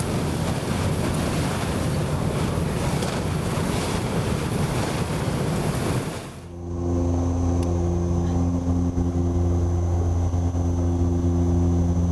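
An-26 military transport aircraft taking off during airborne troop training: a loud wind-blown roar gives way abruptly to a steady, droning propeller hum with a strong tonal whine, sustained and fairly close.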